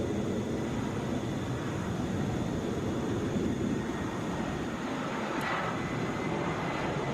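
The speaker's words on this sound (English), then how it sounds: "Airbus A319." An Airbus A319 airliner arriving at Atlanta airport, a continuous broad rumbling roar at moderate distance, steady throughout with a faint high tone.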